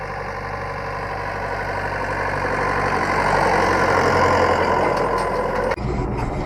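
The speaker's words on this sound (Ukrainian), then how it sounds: "тут видно якийсь мочар чи що, навіть трактор буксує" A tractor engine runs steadily in a boggy field near water, its wheels slipping in the mud, a loud continuous low drone that swells slightly before cutting abruptly near the end, with no voices.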